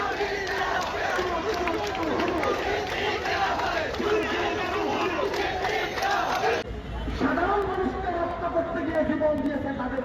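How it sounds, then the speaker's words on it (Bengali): Protesters crowd the main gate of the CMP police headquarters in Chittagong, chanting slogans against the attack on Nurul Haque Nur; a loud, massed roar of voices shouts continuously in rhythmic bursts. "সিএমপি কার্যালয়ের মূল ফটক ঘেরাও করে স্লোগান দেন আন্দোলনকারীরা"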